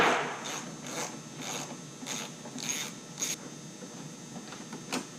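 A T40 Torx driver ratchets out hood screws on a Polaris RZR 1000, producing a rapid series of close, crisp clicking pulses in a steady rhythm over faint background hum.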